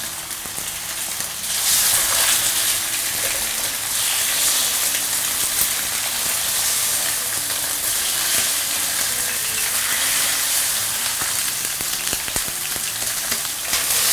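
Fatty pork belly pan-frying in oil, a loud, steady, dense sizzle with crackling spits continuing without pause, no voices.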